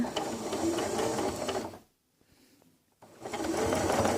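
Elna 680 sewing machine stitching a mend, a steady close mechanical whir that stops for about a second in the middle before the motor starts up again.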